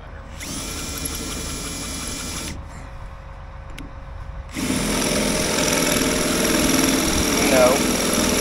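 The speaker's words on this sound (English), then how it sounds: "We're just gonna drill it out." A power drill whines steadily while drilling out a broken, hardened shear bolt, stops briefly, then starts again louder and more strained.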